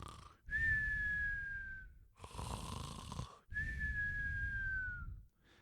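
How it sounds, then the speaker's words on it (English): Snoring of a bear as a sound effect in a storybook reading: three long, loud snores, each a raspy breath with a whistling tone, separated by brief pauses. "and he was snoring away to glory."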